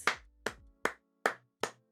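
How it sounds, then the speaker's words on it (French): Five separate hand claps, evenly spaced about every 0.4 seconds, close and sharp with nothing else around them. "moi j'applaudis"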